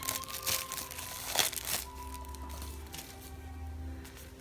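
Cellophane wrapper is peeled and crinkled off a new tarot card deck, a faint, close crackling with a sharper tearing burst partway through, no voices.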